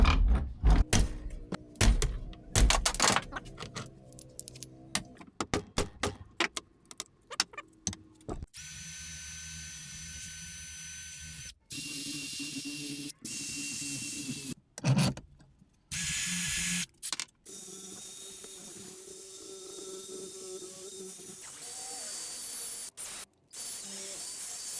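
Pressing a rear U-joint out of a third-generation Toyota 4Runner driveshaft with an 18mm, 3/8-drive socket gives sharp metallic clanks and creaks, followed by stretches of steady mechanical grinding and whirring broken by abrupt cuts.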